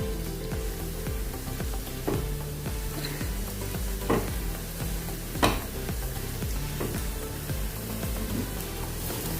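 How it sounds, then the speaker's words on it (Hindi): Besan-coated bread slices frying in a pan: a steady, close sizzle and crackle of oil with a few sharper clinks and scrapes of a turner. "ऐसा ही इसको तलना है, यानी बेसन का कच्चापन निकल जाए"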